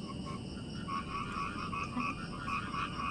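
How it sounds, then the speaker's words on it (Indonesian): Frogs croak at night in a forest campsite, a dense steady chorus of repeated rhythmic calls layered over insect-like buzzing, with no one speaking. "Suara katak nih serem banget"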